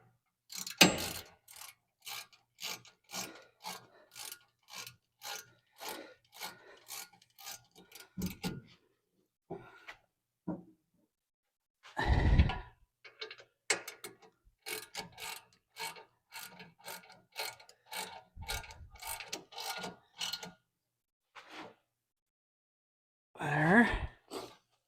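A hand ratchet tightens brake parts on a work truck Silverado during a big brake upgrade, rapid close clicking in long runs broken by pauses, with occasional breaths and sighs.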